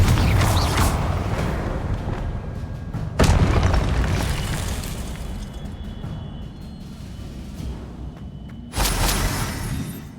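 Confringo fire spells in the Hogwarts Legacy video game land as two sudden explosive bursts, the second near the end, over a steady rumbling game soundscape with creaks and mechanical noises.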